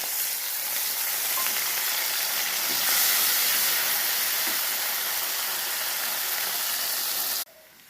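Potatoes and onions fry in oil in a pan, a steady loud hiss and sizzle holding close and constant throughout before cutting off abruptly near the end.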